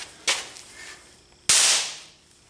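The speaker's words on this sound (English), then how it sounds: "they do explode on impact if you hit them with a hammer or something" Homemade impact powder made from match heads pops twice when struck with a hammer on wood, a small sharp crack followed by a louder, close bang with a short ringing decay, no talking.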